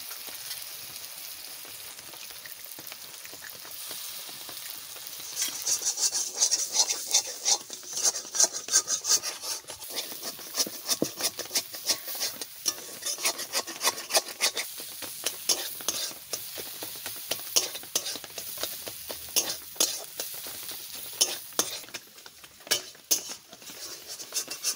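Eggs broken into a hot pan for bhujiya sizzle and fry after coriander powder went in, with a spatula scraping and stirring the pan in irregular bursts. The frying grows busier partway through, with no talk.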